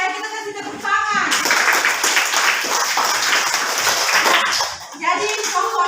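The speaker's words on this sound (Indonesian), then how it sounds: "Oke, kita kasih tepuk tangan." Classroom audience applauding together for several seconds, a dense burst of clapping that swells in after a short spoken moment and fades near the end, with a voice talking before and after.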